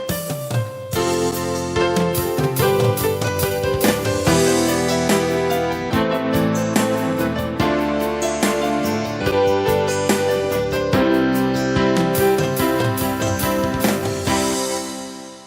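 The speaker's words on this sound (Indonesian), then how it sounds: "Tapi di sini saya coba 80 ya untuk style beat." Yamaha PSR-E463 keyboard playing an auto-accompaniment style beat at tempo 80, with steady drum hits and layered chords running continuously and loud throughout.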